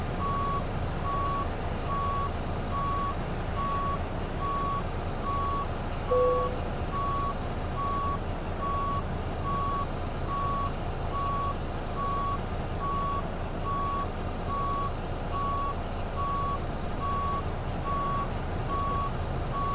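Steady, evenly spaced reversing beeps from a backing truck in the American Truck Simulator video game repeat for the whole stretch, clear over a constant low engine rumble, with no talk.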